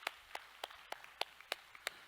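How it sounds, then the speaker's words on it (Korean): Applause for a church children's dance team comes as a steady run of about eight evenly spaced claps in unison, fairly faint, with no talk between them. "율동팀 우리 박수 한번 합시다."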